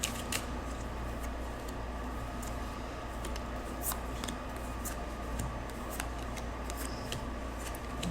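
Tarot cards shuffled at close range, a steady papery riffle and scrape running the whole time with small ticks and snaps, alone with no talk.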